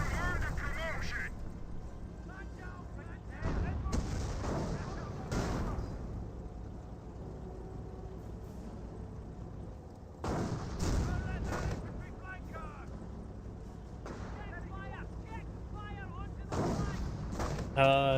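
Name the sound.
artillery barrage in Company of Heroes video game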